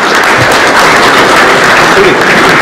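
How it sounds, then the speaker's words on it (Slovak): Audience applause at an award ceremony for the Karol Fako Prize for the 2015/2016 season, a steady dense wash of clapping filling the hall with no break, a few voices faintly mixed in. "ešte raz potlesk"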